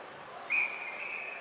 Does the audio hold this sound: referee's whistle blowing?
yes